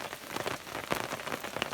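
Steady rain patters on surfaces through a cold, wet evening at a van campsite, a continuous soft hiss with scattered brighter drip taps.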